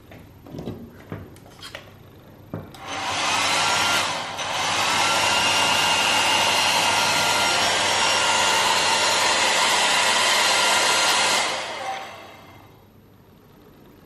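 A hair dryer in a hotel bathroom whirs loudly and steadily for several seconds after a few clicks and handling sounds, then switches off and winds down.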